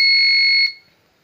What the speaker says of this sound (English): So that time this buzzer is on and this relay is off.